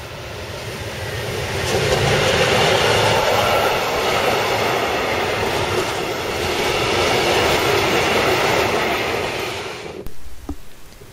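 A long freight train rumbles past steadily at a station on the Berlin Outer Ring, a broad continuous roar of wheels on rails that swells and holds, then cuts off near the end.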